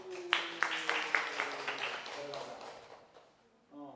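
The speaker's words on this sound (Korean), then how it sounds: "박수" A church congregation claps during a Sunday worship service. The claps are sharp and fairly quick, strongest at the start and thinning out over a few seconds, in a quiet room. A voice speaks briefly at the very end.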